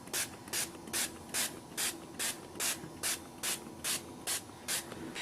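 Glimmer Mist shimmer spray misted onto paper in about a dozen short, evenly spaced hissing bursts, each roughly a third of a second long, close and fairly quiet over a faint background.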